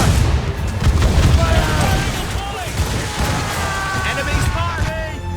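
Ship cannons fire in the naval combat of Assassin's Creed Rogue, deep booms and rumbling blasts under shouted crew commands and steady ocean and wind noise.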